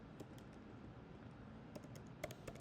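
Quiet typing on a computer keyboard, with soft, scattered key clicks under a low background hum and a few sharper taps near the end.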